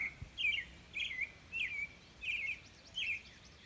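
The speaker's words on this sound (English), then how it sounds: "Sing your song, cardinal." A northern cardinal, a red bird perched up high near a pasture, sings five evenly spaced clear whistled phrases, faint and somewhat distant against a quiet outdoor background.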